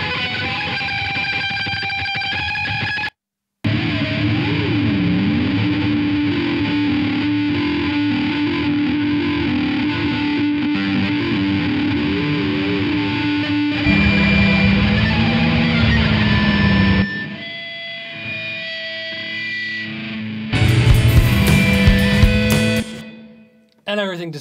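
Electric guitar run through fuzz and distortion pedals from Devi Ever, GimpFX and Electro-Harmonix alongside delay, giving loud, dense, continuous saturated tones with warbling, sliding pitches and a few abrupt dropouts and bursts.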